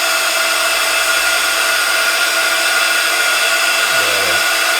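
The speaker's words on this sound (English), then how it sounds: "Or should we get our heat tool?" A handheld craft heat tool blows steadily on its lowest setting during mixed media and die-cutting work, a loud continuous broadband whoosh with a brief dip in pitch near the end.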